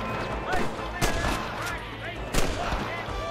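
Gunfire in the Western video game Red Dead Redemption: a few sharp shots at about half-second, one-second and two-and-a-half-second marks, set over a busy game soundscape with some voice-like sounds in the mix.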